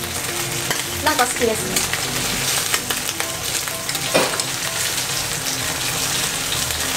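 Bacon sizzles and fries in a pan, a loud, steady crackle with scattered pops all the way through, while a voice speaks briefly over it.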